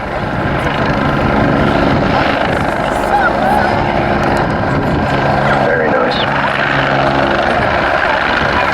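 A Belgian Air Force AW109 helicopter flying backwards, tail first, during an air show display at RAF Cosford: a loud, continuous rotor and engine roar with a commentator speaking over it.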